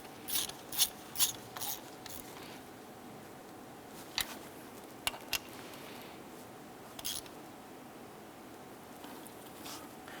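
Fuel rail bolts on a 2007-2012 Nissan Versa are snugged down with a ratchet, giving faint, quick clicking bursts in a few separate runs over a quiet background.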